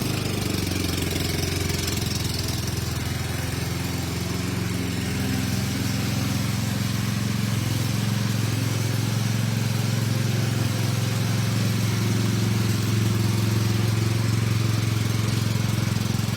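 Kraken Ultimate 48GPM ride-on pressure washing machine, fitted with a light bar, rinse bar, curb cleaner and 6-foot deck, idling with a steady low engine drone that runs unchanged and close throughout.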